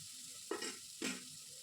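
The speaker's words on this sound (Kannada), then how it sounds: "ಈ ಥರ ನಾವು ಬೀಟ್ರೋಟ್ನ ಚೆನ್ನಾಗಿ ಫ್ರೈ ಮಾಡೋಣ" Beetroot pieces fry in a pan for beetroot sagu: a soft, quiet sizzle with two distinct scraping stirs about half a second apart, no voices.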